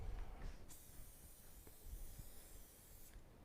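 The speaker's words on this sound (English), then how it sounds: "I want to spray my tray" Cooking spray hisses onto a baking tray in a home kitchen, a short, faint burst of aerosol spray heard close up with no talking.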